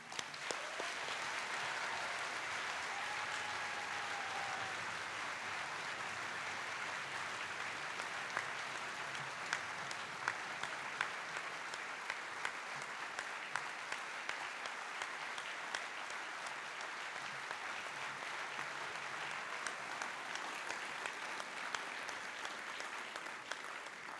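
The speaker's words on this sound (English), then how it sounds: "I think you both deserve a huge round of applause for everything you've done for this school" A school speech day audience gives a long, sustained round of applause, dense steady clapping from a large crowd that carries on evenly with no voices over it.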